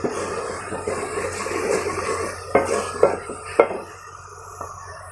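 Yogurt fries and is stirred in a pot for potato karahi in a village kitchen: a soft sizzle under scraping spoon strokes, with a few sharp clanks of metal against the pot.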